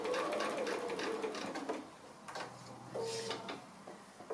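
A sewing machine runs in short bursts of rapid mechanical whirring as it stitches a fabric toad pin cushion, close and fairly quiet, with pauses and small handling clicks between.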